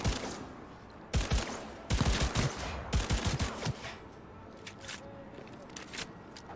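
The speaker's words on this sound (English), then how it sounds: "That was a gun." Gunfire in the video game Cyberpunk 2077 comes as several sharp bursts of rapid shots, loud and close, separated by quieter gaps with fainter scattered pops near the end.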